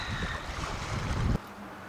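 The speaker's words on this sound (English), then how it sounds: "this wind's really blowing" Strong gusty wind of around 18 to 19 knots buffets a trawler at anchor, a loud broadband roar with low rumble up close, cutting off abruptly to a quieter hum near the end.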